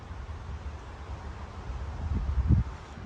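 Steady wind roars and buffets the microphone, with a couple of stronger gusts thumping near the end.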